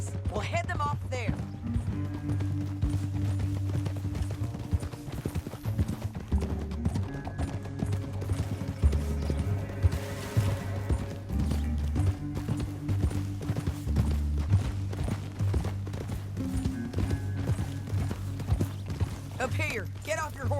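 Horses in the video game Red Dead Redemption 2 gallop with a steady, rapid clip-clop of hooves under a background music score, while voices talk over the riding.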